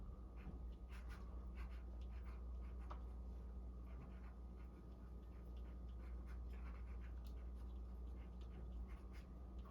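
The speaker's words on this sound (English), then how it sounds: "Then I sign it with a 2H pencil." A 2H pencil signs a finished abstract painting, giving faint, dry scratching strokes in short bursts over a quiet room hum.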